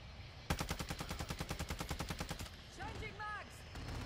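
Rapid automatic gunfire in a multiplayer shooter game fires as one steady two-second burst of evenly spaced shots, followed by a few short electronic chirps.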